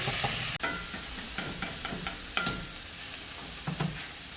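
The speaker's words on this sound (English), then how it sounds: "Asparagus will just keep sauteing as normal" Asparagus sautéing in a cast iron pan, a steady sizzle and hiss with a burst of loud noise at the very start, then scattered spatula scrapes and stirring knocks throughout, close and free of talk.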